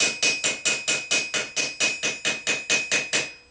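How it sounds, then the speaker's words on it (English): Hammer lightly tapping fluting into the crease of a steel Gothic gauntlet, about fourteen evenly spaced, crisp metallic strikes with short ringing decays, close and clear with no talk. "you can hear I'm only just tapping this"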